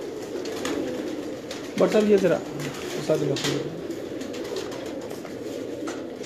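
Pigeons of fine breeds kept by a Sialkot fancier coo softly in a loft, low bubbling calls rising briefly in the middle while someone talks over them.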